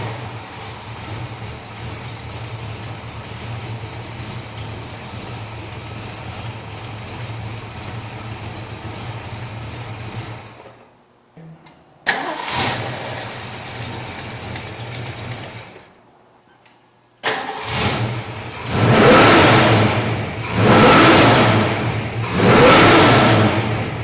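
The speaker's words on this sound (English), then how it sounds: "Now we'll take a listen to this 302 running." A 1965 Ford Mustang fastback with a 302 V8 and four-speed settles into a steady rumbling idle, then drops out briefly before the engine is blipped and revved hard in several loud, rising pulses.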